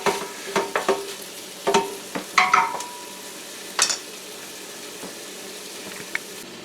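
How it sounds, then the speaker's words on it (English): Ginger udon ingredients being sautéed in a pan: a utensil scrapes and clinks against the pan in irregular bursts over a low, faint sizzle, heard up close with no talking. "I'm just going to saute it and let some of the juices cook out of it"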